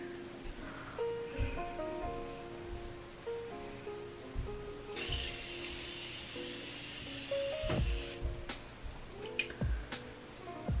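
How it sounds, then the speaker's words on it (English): A Morphe Continuous Setting Spray is misted over a face during a makeup routine, one steady hissing burst of about three seconds, fairly close and clearly above the quiet room. "I'm going to be using the Morphe Continuous Setting Spray."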